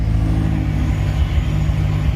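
A BMW X6M engine running just after being started with a newly made key, a steady low idle rumble with slight revving swells, close and continuous with no talk.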